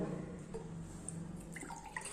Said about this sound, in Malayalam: ഞാൻ ഈ ഒരു പ്ലാസ്റ്റിക് പാത്രത്തിലേക്കൊന്ന് ഒഴിച്ചു കൊടുക്കുകയാണ്